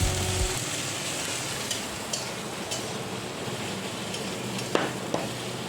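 Fish curry with onion and tomato fries in a pan with a dense, continuous sizzle, joined now and then by faint taps of a spatula; steady and close.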